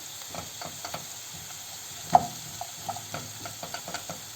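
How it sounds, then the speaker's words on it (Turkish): Cooked chickpeas go into tomato paste frying in a pot for a chickpea and purslane salad, giving a soft sizzle under scattered stirring taps and one sharp clink of a utensil against the pan. "kavrulan salçamın üzerine de bir su bardağı pişmiş nohudumu ilave ediyorum"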